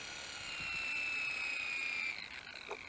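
An Eachine E110 mini RC helicopter's rotor, spinning under throttle, gives a steady, close high-pitched whine that drops away abruptly after about two seconds, leaving only faint background noise.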